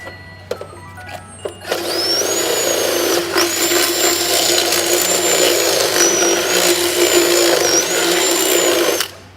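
A power drill whines steadily for several seconds while working on a Honda Del Sol turbo build, its pitch wavering slightly as it bites, after a few brief clicks and starts.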